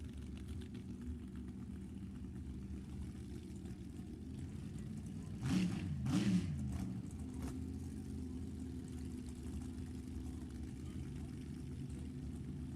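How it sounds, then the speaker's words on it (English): Chevy-powered hot rods, including a '32 Bantam Roadster, at a Sacramento Raceway drag race: a steady low engine rumble with a brief louder revving surge midway, heard from a distance. "Eddie Lucas out of Modesto, also in a 32 Bantam Roadster, both with Chevys powering those hot rods."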